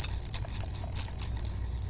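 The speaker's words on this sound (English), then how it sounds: "these bells. Well, listen to these are the silver." Silver Christmas bells made by New England Bells in New Hampshire, shaken at a general store, give a bright, sustained jingling shimmer with repeated rhythmic strikes, close and fairly loud, with no talking.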